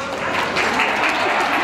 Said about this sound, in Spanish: Dije gracias por los aplausos.